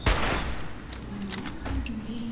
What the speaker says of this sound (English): That's a machine pistol.